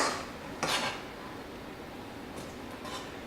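A knife cuts through tomatoes on a board while making tomato sauce, giving a few brief, close scraping cuts with quiet pauses between them.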